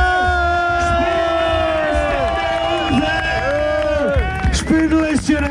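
A large crowd gathered for a ski race awards ceremony, loud and close, with a continuous mass of voices whooping and cheering and many overlapping shouts across the whole stretch.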